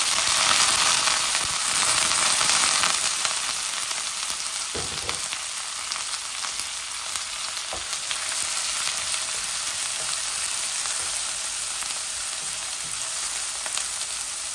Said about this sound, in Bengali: আমার রসুনগুলো লাল হয়ে গেছে, আমি একটা পেঁয়াজ দিয়ে দিচ্ছি।